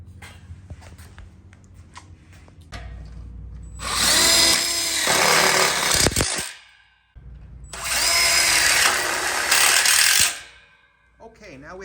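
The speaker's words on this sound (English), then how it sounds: "we'll go ahead and screw in the center ones" A power driver whines loudly in two sustained bursts of a few seconds each as screws are driven into the tube track of a welded split bar counter frame for an outdoor kitchen, with quieter handling knocks before and between them.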